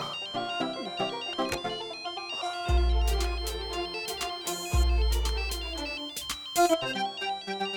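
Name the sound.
mobile phone ringtone, incoming call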